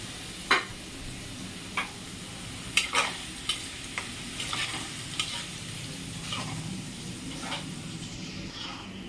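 Potatoes frying in a pan give a steady low sizzle, with occasional sharp clicks and scrapes of stirring scattered across it, fairly quiet and without speech.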